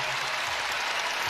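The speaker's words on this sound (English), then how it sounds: "And now the ovation as the starters start to come out." A basketball arena crowd at an NCAA tournament first-round game between UConn and Mercer gives a loud, sustained ovation of steady applause as the starters come out.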